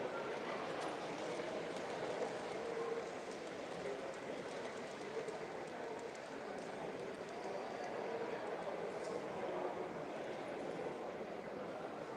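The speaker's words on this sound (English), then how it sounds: "And we move on to double O-gauge layout" An OO-gauge model train runs steadily on a layout at a model railway show, its continuous mechanical rumble and faint rail clatter mixed with a busy room's background murmur.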